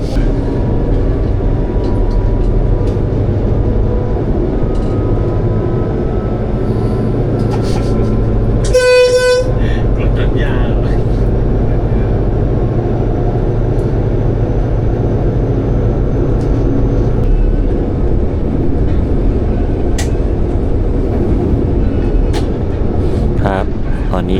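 Thai passenger train 167 from Bangkok to Kantang rumbles loudly from inside a carriage as it approaches Thung Song Junction, with a steady clatter and a clear horn blast near the middle.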